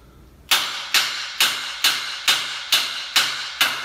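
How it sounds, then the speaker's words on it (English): A hammer strikes misaligned bolts eight times at a steady quick rhythm, each sharp metallic clank ringing and fading before the next, close and loud with no talking. "I don't think hitting it with the hammer is doing anything."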